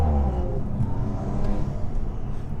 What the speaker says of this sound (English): I want you guys to hear this intake